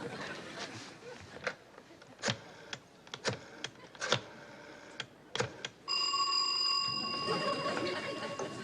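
A telephone in a sitcom scene: a run of sharp, irregular clicks and knocks gives way to a sustained, ringing bell tone that continues to the end at close range.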